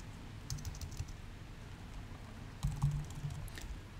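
Fingers tap out an Excel formula on a computer keyboard in two short bursts of quick, light keystrokes, close and quiet, separated by a pause.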